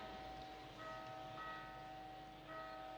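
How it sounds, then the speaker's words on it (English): Bells ring in the background of a forest scene in a Square Enix video game, sustained tolling tones layered over a steady ambient bed, faint and distant. "Got some bells going off in the background."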